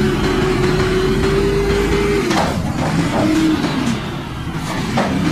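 A green toy garbage truck runs with a loud, close electric motor whine that holds steady for about two seconds, then cuts out and gives way to plastic clicks and rattles as it is handled.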